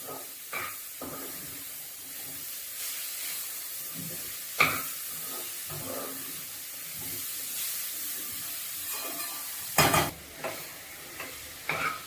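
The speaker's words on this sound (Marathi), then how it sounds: "गूळ आपल्याला पूर्णपणे खोबऱ्यामध्ये वितळून द्यायचा आहे" Chopped jaggery melting into grated coconut in a hot pan for a sweet filling, a soft continuous sizzle and hiss broken by occasional scrapes and clanks of a stirring spoon, close up with no voices.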